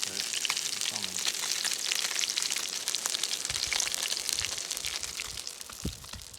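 Salmon fillets fry skin side down in a hot pan, giving a steady, close, loud sizzle and crackle with bursts of spattering and a few soft clatters.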